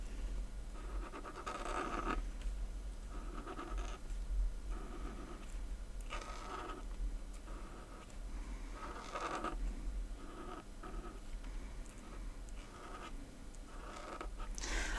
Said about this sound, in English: I'm going to go over that with a marker.